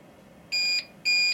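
Two short, loud electronic beeps from a device, each about a quarter second long and evenly spaced, with only faint background hiss between them.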